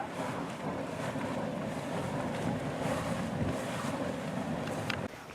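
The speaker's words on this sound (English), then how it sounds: "This is the Huff and Puff Geyser. Apparently it don't shoot any water, but it huffs and it puffs a lot." Huff and Puff Geyser in a geyser basin venting gas, a steady hissing, gusty roar heard close up, blended with wind buffeting the microphone, with no talk.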